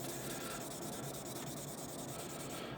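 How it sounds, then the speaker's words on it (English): Fine grit sandpaper rubbing back and forth on a steel katana blade in a continuous close, dense scratching hiss, even in loudness with no voices. "the higher on the sandpaper you get, the more you're going to be polishing instead of sanding."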